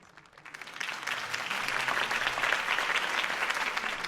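A crowd applauds after a political campaign speech in a Batman video game, the clapping swelling from faint to a full, sustained roar of many hands.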